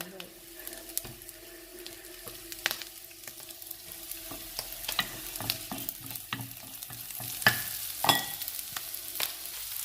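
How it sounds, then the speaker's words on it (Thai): Garlic and shallots stir-fried in a pan, a steady sizzle broken by scraping stirs and clinks of a utensil against the pan, with faint kitchen noise behind. "เอากระเทียมกระหอมผัดก่อน"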